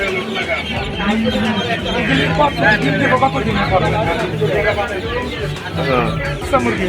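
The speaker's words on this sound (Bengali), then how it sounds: "এগুলো কি হাঁসের বাচ্চা?" Ducklings peep and chirp continuously in a dense flock while people talk nearby in a noisy market setting.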